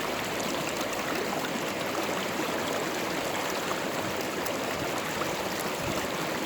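A river flows in a steady, even rush of water, continuous and close, with no voices over it.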